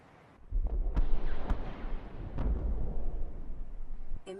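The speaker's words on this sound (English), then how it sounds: "the Aurora experiences a quantum detonation in the drive core, causing a massive explosion" A massive quantum detonation in the Aurora starship's drive core in Subnautica: a deep, rumbling blast with sharp cracks in the first seconds, swelling into a sustained roar that lingers before a brief electronic blip at the end.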